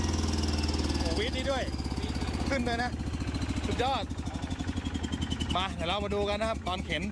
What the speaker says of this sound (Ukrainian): Це мотор Кубота.